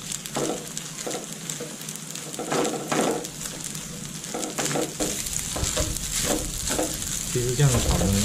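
Garlic egg fried rice is stir-fried in a wok over high heat, giving a steady sizzle broken by repeated scraping and tossing strokes of the utensil, moderately close.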